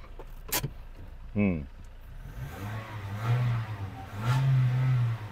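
After its four ignition coils were replaced, a car engine idles steadily and then revs up a couple of times. The sound is close and droning, with a brief mechanical whine near the start and someone talking over it.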